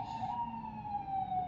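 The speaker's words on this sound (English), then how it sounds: "Sorry about the sirens, you guys," An emergency vehicle siren sounds outside, a sustained wailing tone that holds fairly steady at a moderate distance, somewhat faint and muffled by walls.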